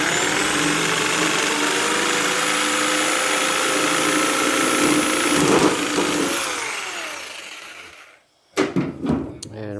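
A power saw cuts through a PVC upright with a loud, steady whine for about eight seconds, then stops abruptly, followed by a few short knocks and rattles.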